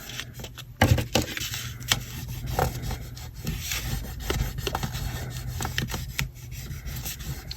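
Glued layers of card are pressed and rubbed firmly by hand, producing close, scratchy rubbing strokes with a few sharp taps and handling noises.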